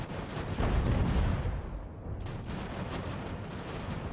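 Cannon and musket fire from an Ultimate General: American Revolution battle, a dense, continuous roar of booming artillery and crackling gunfire that swells loudly early on and rolls on without pause.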